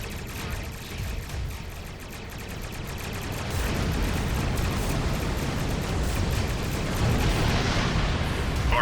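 Klingon warships firing in the Star Trek Online space game: a dense, continuous barrage of booming weapon blasts and explosive rumble, loud and sustained, growing heavier partway through.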